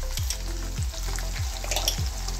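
Tomatoes sizzle in a hot pan while cooking, a steady close frying hiss with a few soft stirring scrapes repeating at regular intervals.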